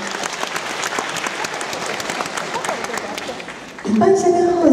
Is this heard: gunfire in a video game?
no